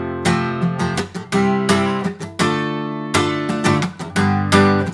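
Full-intensity barre chords strummed on a guitar in a rock rhythm, loud and punchy, with sharp repeated chord hits and brief choked gaps between bursts.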